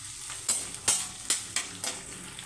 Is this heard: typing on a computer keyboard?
no